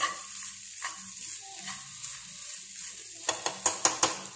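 A spice tempering fries in a pan for a Tulu-style beaten-rice dish, faint sizzling with soft stirring at first, then a quick run of sharp spatter pops near the end.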